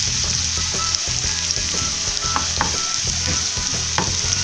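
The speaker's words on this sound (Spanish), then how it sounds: "vamos a freír, como siempre les digo, muy bien esta cebolla" Onion frying in a pan for a Peruvian lima bean dish, a steady close sizzle with the scrape and clack of stirring running through, loud and continuous with no talk.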